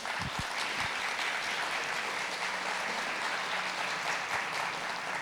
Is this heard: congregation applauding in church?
yes